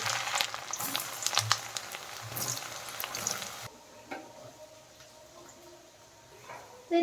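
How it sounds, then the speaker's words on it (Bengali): Carrots frying in white oil in a kadai, a steady close sizzle with stirring scrapes that grows noticeably quieter partway through, with no talk. "প্রথমে গাজরগুলো ভেজে নিচ্ছি"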